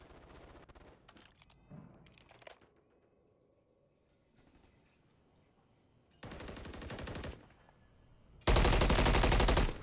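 Bursts of automatic gunfire in a competitive video game match, scattered shots early on, then a sustained rattling burst and a final loud continuous spray near the end.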